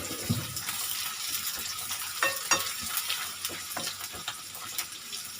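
Ginger and chili sizzle in a pan for squid adobo, a soft, continuous frying hiss broken by scattered stirring scrapes and taps, with no voices.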